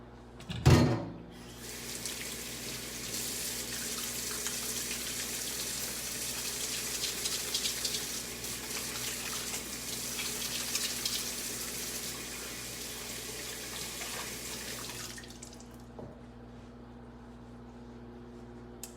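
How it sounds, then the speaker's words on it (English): A kitchen tap runs for handwashing, starting with a knock, then giving a steady, close hiss of flowing water for about fourteen seconds before shutting off, followed by a quiet clunk. "Let me wash my hands and show you some more."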